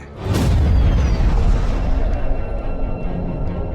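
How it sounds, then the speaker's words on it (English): A huge, deep explosion representing the Big Bang erupts with a loud boom and swelling rumble, then rolls on in a long, sustained roar that slowly settles without fading away. "the entire universe burst out of a single point in an instant of fiery creation"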